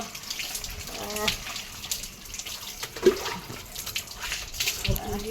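Water poured over someone during a bath, with splashing and running water and one brief clatter partway through. Voices talk faintly in the background.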